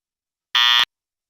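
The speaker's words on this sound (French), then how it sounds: "Si j'appuie sur 2 ou 3, le petit buzzer s'active" A small buzzer in a homemade children's quiz box sounds once, a short, loud, harsh electronic buzz lasting about a third of a second, alone in silence.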